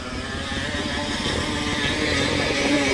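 Motorcycle engine revving hard as a rider climbs a steep mountain trail on Mt. Maarat in San Mateo, Rizal, a continuous loud strained drone that builds slightly toward the end.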